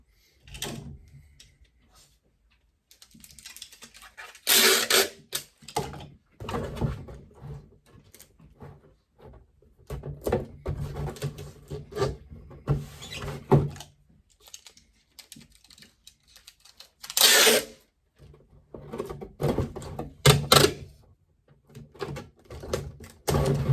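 Packing tape is pulled off the roll and pressed onto a double-boxed shipping carton for an eBay parcel, giving irregular bursts of loud tearing and rubbing scrapes separated by short quiet gaps, close up.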